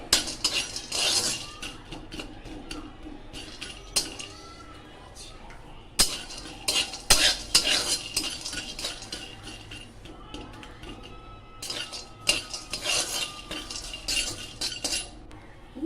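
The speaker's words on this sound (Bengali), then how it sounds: "এভাবে কাঠবাদামটা আমি একটু কেটে রেখেছি যাতে তাড়াতাড়ি ভাজা হয়ে যায় সুন্দরভাবে।" Chopped almonds are roasted and stirred in a pan: intermittent scrapes, clinks and knocks of a utensil against metal come in uneven bursts, close up, with quieter gaps between.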